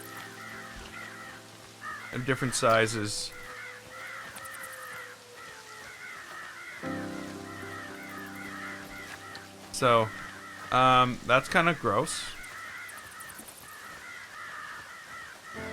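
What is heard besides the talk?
crows cawing in Planet Coaster video game spooky pack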